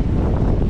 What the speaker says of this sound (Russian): идет волна какая.